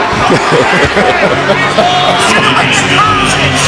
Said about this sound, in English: The Knicks fans are starting to cheer for Kobe now